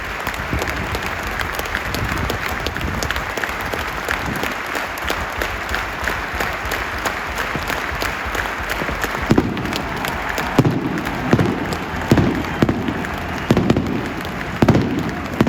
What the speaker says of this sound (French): Merci d'avoir participé à cette minute d'applaudissement.